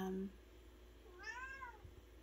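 A house cat gives one short, fairly faint meow in a quiet room, heard alone after a brief low tone at the start.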